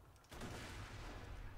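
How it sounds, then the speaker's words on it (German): Gunfire in the video game Borderlands 2, a muffled rumbling burst of shots that starts abruptly and continues faintly. "wo kommen die Schüsse da?"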